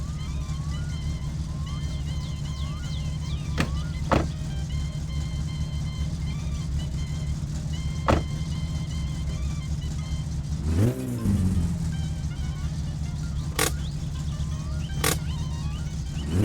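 GT Satsuma car engine in the game My Summer Car, a steady mid-pitched idle drone running throughout with one rising rev and drop midway and a few sharp clicks, loud and close.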